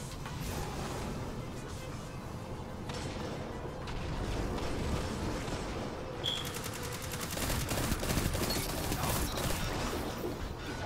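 Gunfire during an Iron Banner match in Destiny 2, a dense continuous stream of shots and mechanical clatter, loud and busy throughout with sharper rapid bursts in the second half.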